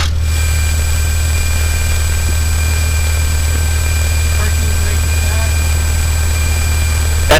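Small training airplane engine running up before takeoff during a private pilot flight lesson, a steady loud low drone filling the whole stretch with faint chirps and a voice briefly over it.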